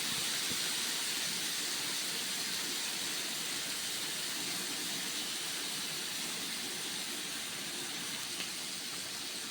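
Food frying over a medium flame in a pan makes a steady, even hiss that runs without a break.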